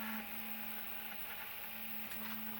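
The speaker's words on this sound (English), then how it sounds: "that printer's gonna be busy for the next several days" A 3D printer printing an R2D2 panel hums with a steady motor drone and soft mechanical whir, continuous and close, with no talk.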